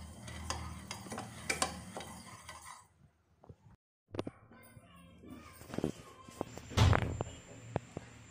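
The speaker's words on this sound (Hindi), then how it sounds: "इसमें हम थोड़ा सा फूड कलर ऐड करेंगे। इसको अच्छे से मिक्स कर देंगे और पकने देंगे।" Sugar syrup with food colour being stirred in a pan as it cooks, with soft scraping and stirring sounds, gentle sizzling, a pause of quiet and a louder clatter near the end, with a voice speaking at times.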